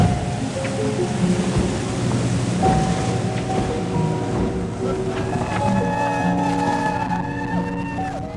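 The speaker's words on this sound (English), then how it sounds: "So it's raining and front is going over" Rain and rumbling thunder at sea aboard a racing yacht during a passing front, with steady broadband wash of rain and water, low rolling rumbles and a few creaking tonal whines from the boat, no talk.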